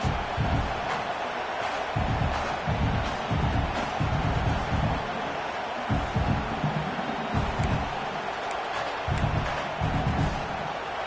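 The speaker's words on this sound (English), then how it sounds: "you get the big stop, and this crowd is hype" A football stadium crowd roars continuously after a goal-line defensive stop, a loud, dense wall of cheering with rhythmic thumping pulses throughout.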